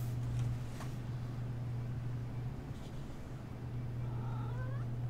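A cat gives a single short meow near the end, rising then falling, over a constant low electrical hum.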